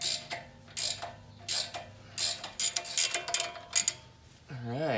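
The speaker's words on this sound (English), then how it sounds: "Ratcheting wrenches are the best." A ratcheting wrench being worked on the drag link of a Jeep Wrangler Rubicon, giving bursts of quick metallic clicking in uneven runs with short pauses between them. The sound is close and fairly loud.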